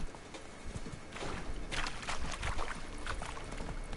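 In The Witcher 3 video game, a horse trots with rapid, steady clip-clopping hooves set against a busy, noisy game soundscape.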